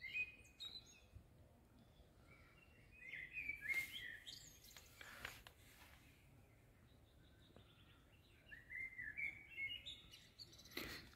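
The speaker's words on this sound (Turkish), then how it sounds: "Kuş ne güzel ötüyor ya." Songbird chirping in a forest camp park at Akyaka, Muğla, Turkey: short bright chirps and trills in two bursts, moderately distant over a quiet low background.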